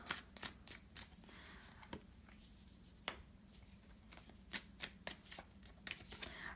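Soft, close card shuffling with quick riffles and crisp snaps, repeated in irregular bursts against a quiet room.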